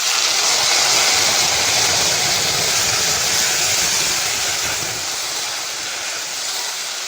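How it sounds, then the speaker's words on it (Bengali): Mustard and green chili paste sizzling in hot mustard oil with green chilies and nigella seeds, a loud dense continuous hiss that fades slightly toward the end. "এবার সর্ষে আর কাঁচা লঙ্কা বাটা দিয়ে দেবো"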